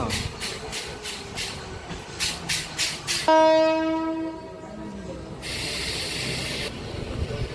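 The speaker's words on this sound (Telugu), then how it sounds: "ప్లాట్ఫామ్ నెంబర్ టూ మీదతో వచ్చింది మన ట్రైన్" An MMTS local commuter train rattles into platform two of a Secunderabad-area station with rhythmic clacking, then a loud horn blasts and fades while the carriages keep rumbling close by.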